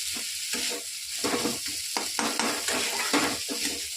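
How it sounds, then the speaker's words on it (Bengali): Chickpeas and boiled taro fry in a pan while being stirred continuously, producing a rhythmic series of close scraping strokes over a soft sizzle. "এটা দিয়ে নাড়াচাড়া করতে হবে, খালি নাড়াচাড়া করতে হবে।"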